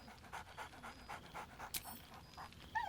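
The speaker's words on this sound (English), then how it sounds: "Scratch barks merrily in something like agreement." Scratch, the dog companion in Baldur's Gate 3, panting in quick rhythmic huffs close by, with a short sharp yelp partway through and a whimper at the end.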